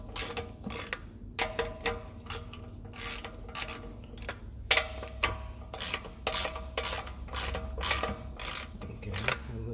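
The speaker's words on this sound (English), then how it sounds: "Then I'm gonna use this kind of ratchet just to make sure they sit right." Ratchet clicking in quick bursts while seating the front hub bearing on a 2009 BMW 750i, sharp close metallic ticks with short pauses and scraping between strokes.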